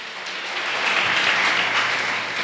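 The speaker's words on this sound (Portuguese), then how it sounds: "Você pode aplaudir o Senhor por esta palavra no nome de Jesus?" A church congregation applauds during a sermon, a thick, even wash of clapping that builds slightly and holds throughout, with no talk over it.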